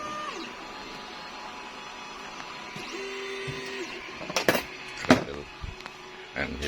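New 3D printer, an Anet A8 or Ender 3 Pro, running with a steady mechanical hum and whirring stepper-motor tones, then a few sharp clanks and rattles near the end, with no speech.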